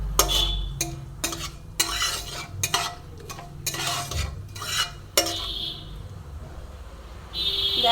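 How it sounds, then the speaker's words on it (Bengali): Whole spices for tempering fry and are stirred in a pan for raw banana pulao, with repeated scraping and clinking strokes over a steady sizzle, close and fairly loud, with no talk. "ফোড়নটা আমার ভালো মতন ভাজা হয়ে এসেছে"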